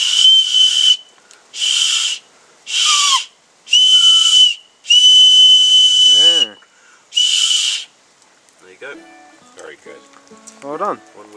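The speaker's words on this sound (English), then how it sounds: "One whistle out of a bit of tin can." A shrill, steady whistle made from a tin can, blown in several long blasts with short pauses between, loud and close, followed by a voice speaking.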